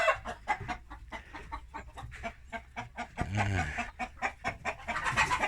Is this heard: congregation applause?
no